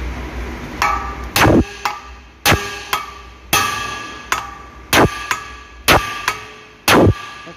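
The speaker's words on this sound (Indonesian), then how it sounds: "Catok seperti ini sampai terkeluar." A hammer bangs a stuck part out of a Suzuki Ertiga without a press, about ten loud ringing metallic clangs struck at a fairly regular pace, close and with no talk.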